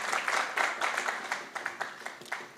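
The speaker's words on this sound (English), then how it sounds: "Let's give them a round of applause, please." A small audience claps for a few seconds, the applause starting full and thinning into scattered separate claps.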